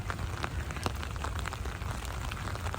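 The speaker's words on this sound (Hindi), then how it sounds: "बारिश कभी शुरू हो जाती है, कभी बंद हो जाती है।" Steady rain falls in downtown Vancouver, a soft constant hiss of drops on surfaces with low city rumble underneath and no voices.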